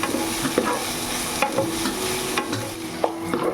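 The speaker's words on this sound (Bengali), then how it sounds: "এখানে বাঁধাকপিটা একটু লবণ দিয়ে একটু হালকা ফ্রাই করছি" Cabbage fried lightly with salt in a pan, a constant close sizzle with periodic stirring scrapes and taps from the spatula, loud and clear, with no voices.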